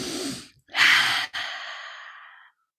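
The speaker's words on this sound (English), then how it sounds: "So I want you just to take a deep breath in." A person takes a deep breath in, heard as close, airy inhalation sounds: a short breath, then a stronger drawn-in breath and a longer fading one, with nothing else around.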